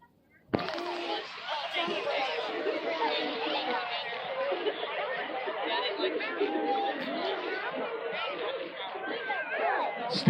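A dense crowd murmurs and chatters steadily at an outdoor Christmas caroling event, many overlapping voices forming a continuous babble that starts abruptly and holds at an even level.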